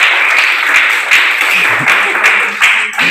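A classroom of students claps in a short, rhythmic burst of applause with distinct pulses, fairly close and loud, with faint voices underneath.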